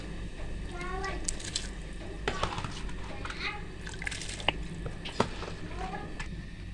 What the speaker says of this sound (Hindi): पानी हमारा उबलना शुरू हो गया। अब हम इसमें चावल शामिल कर देंगे।